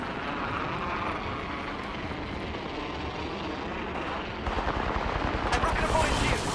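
Gunfire in Apex Legends during a match, a continuous dense clatter of rapid shots over loud ambient noise, intensifying toward the end with sharper bursts.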